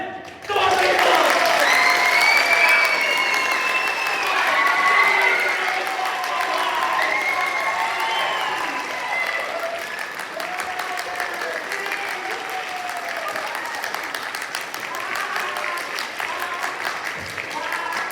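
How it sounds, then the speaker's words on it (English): Theatre audience at a Brothers Grimm-themed play clapping hard and steadily throughout, with cheering and voices shouting over the applause as it gradually softens. "If you clap hard enough, Hansel will live."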